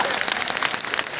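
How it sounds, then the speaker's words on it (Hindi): Audience at a business seminar claps steadily, a dense wash of many hands applauding together at moderate volume, continuous throughout with no pauses. "ऐसे ईमानदार लोग लिए दिल से ताली बजाओ।"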